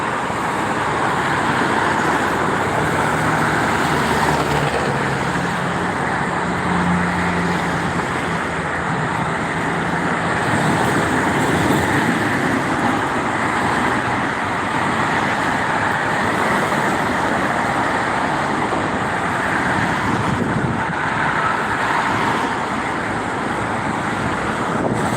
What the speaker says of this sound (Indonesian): ada bus Budiman meluncur arah Jakarta. Di belakangnya mobil-mobil pribadi.